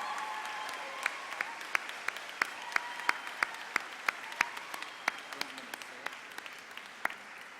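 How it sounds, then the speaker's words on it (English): A crowd applauds steadily for several seconds at an elementary school graduation, with sharp individual claps standing out above the wash of clapping. "So let's give these boys and girls a big, big round of applause."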